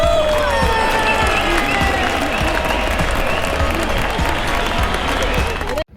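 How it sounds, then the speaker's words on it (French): A group applauds steadily and loudly for a costumed child dressed as a werewolf at a village event in Praz-sur-Arly, with cheering voices mixed into the dense clapping before it cuts off abruptly at the end. "On applaudit Mathis pour son garou"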